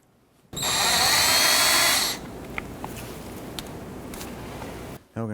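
An impact tool or drill removes a 13mm brake caliper bolt on a 1993-1997 Ford Ranger in one loud, steady burst of about a second and a half, then cuts off, leaving quieter clanks and shop noise.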